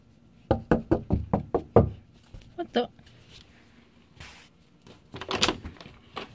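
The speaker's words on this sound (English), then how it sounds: "were you the one knocking?" A quick run of about seven sharp knocks on a door, followed after a pause by a few more scattered knocks and a final cluster of loud raps, all close and clear.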